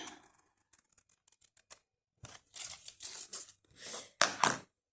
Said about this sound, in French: je viens donc découper